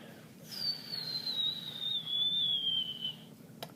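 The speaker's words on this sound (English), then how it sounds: "small whistling sound" A high-pitched whistle sound effect, a single thin tone that slowly glides downward for nearly three seconds over a faint hiss, ending with a soft click.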